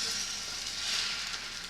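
Scrambled eggs sizzling in a pan while a fork works around the edges, a soft continuous hiss with faint stirring.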